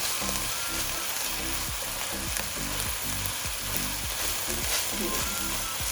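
Seasoned egg for fried rice sizzles loudly in a hot pan while being stirred and broken up, with rhythmic scraping strokes repeating steadily over the continuous frying and no talking.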